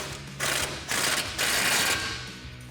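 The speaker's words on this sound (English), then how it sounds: "we'll tighten that up with a 21mm socket" A ratchet tightens a 21mm nut with a socket on a 2021-2023 F-150 suspension lift install, giving three quick bursts of close, dense clicking separated by short pauses, with no talk.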